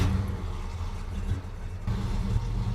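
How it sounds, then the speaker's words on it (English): A deep, rumbling V8 exhaust on a 1968 Ford LTD with a 390 two-barrel engine and Flowmaster exhaust idles steadily close by, its low throb loud and continuous with a slight swell near the end. "relatively loud Flowmaster exhaust on it"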